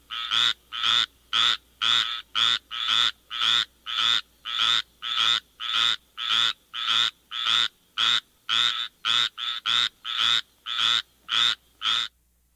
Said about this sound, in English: Somewhat larger and quite different in appearance and voice is the squirrel tree frog, Hyla squirella.